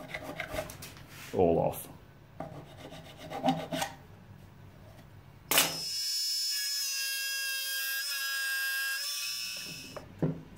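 Hacksaw cutting through wood to square off a router's rounded corner on a coin-run moneybox, heard as short rasping strokes in bursts with low talk around them, followed by a loud steady tonal hum.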